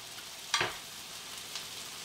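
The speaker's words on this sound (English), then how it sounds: "the pan is heated up, and we're just gonna add all our vegetables in" Broccoli and other vegetables dropped into a heated pan, giving a steady hiss of frying with one sharp burst of sizzle and a smaller flare a second later.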